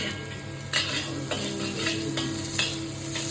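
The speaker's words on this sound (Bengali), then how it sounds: "প্রথমে আমরা গার্লিক দিলাম, এখানে তেল দিলাম" Garlic frying in hot oil in a pan, a continuous close sizzle with a few stirring scrapes and utensil knocks against the pan, no talking.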